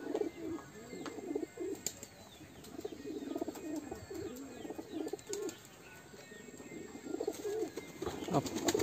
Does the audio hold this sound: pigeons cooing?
yes